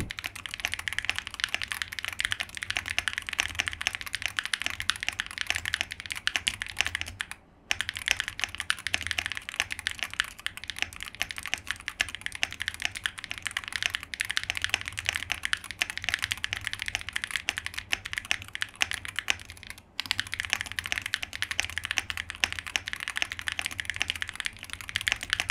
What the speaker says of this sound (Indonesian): Ini dia typing testnya.